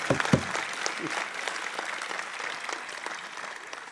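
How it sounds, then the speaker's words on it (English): Applause from a Trent University convocation audience in Peterborough honouring graduates at the 2018 afternoon ceremony, a dense steady clapping that fills the hall from start to finish, slightly louder in the first moments and then holding even. "A round of applause for our graduates"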